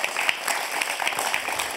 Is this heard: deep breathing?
no